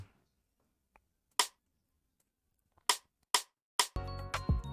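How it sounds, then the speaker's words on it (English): A rim shot drum sample in an Afrobeat beat made in FL Studio sounds as a few sharp, dry cracks spaced apart, followed by the start of a fuller drum pattern with a deep low hit at the end. "so that's how the rim shot sound like"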